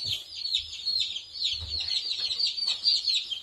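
A batch of new chicks peeps in a brooder, a continuous high shrill chorus of many overlapping cheeps, close and steady, with faint low bumps underneath.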